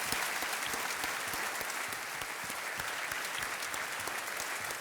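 Studio audience on a televised quiz game show gives a dense, sustained round of applause for a departing contestant, loud and even throughout with no break.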